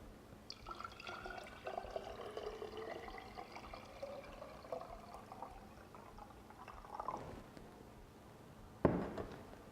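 Water trickles and pours into a liter-sized jar for fermented anise soda, a soft continuous liquid stream with gurgling, faint and close, ending with a couple of brief louder splashes or knocks.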